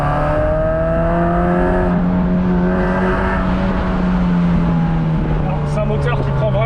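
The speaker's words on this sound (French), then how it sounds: "C'est un moteur qui prend vraiment beaucoup les tours." An MG MGF sports car engine revs up hard and holds a high, whining pitch, loud and close, with a voice talking briefly over it.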